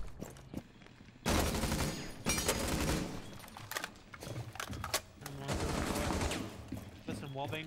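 Rapid bursts of gunfire fired through a wall in the tactical shooter Rainbow Six Siege, dense rattling volleys coming in several loud clusters with brief gaps between them.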